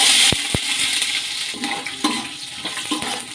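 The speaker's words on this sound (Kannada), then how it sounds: "ಎಣ್ಣೆಲಿ ಈರುಳ್ಳಿ ಫ್ರೈ ಆಗಲಿ." Onions frying in hot cooking oil in a pot on a stove for a raw jackfruit masala gojju, a steady broadband sizzle running throughout with a few sharp clicks of a utensil, no voices.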